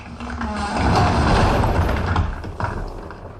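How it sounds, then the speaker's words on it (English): A dense, rising creaking and groaning rumble of a newly installed wooden shelf straining and buckling under about 100 books, building to a peak then settling with a soft thud. "That was the sound of a shelf I just installed, buckling under the weight of 100 books."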